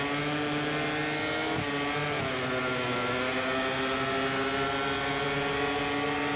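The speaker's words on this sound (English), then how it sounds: "Here comes the Ducati, I can hear it." A Ducati racing motorcycle in the MotoGP 24 video game, its engine droning steadily with a sustained harmonic whine that dips briefly around the middle before climbing again, loud and continuous with no talk.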